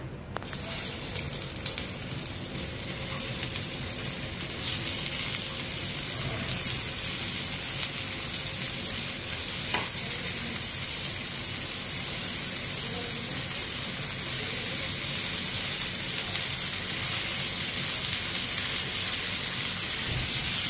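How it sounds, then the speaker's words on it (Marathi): Bombay duck (bombil) fish frying in oil in a pan, a steady dense hiss and crackle that holds loud and unbroken throughout, heard alone. "आता बोंबील तलत ठेवलं तळू द्या"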